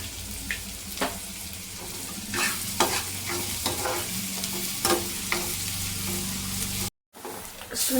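Ginger garlic paste frying in a pan for egg fried rice, with a steady sizzle and repeated stirring scrapes through the clip, plus the sound of running water nearby; there is no talking.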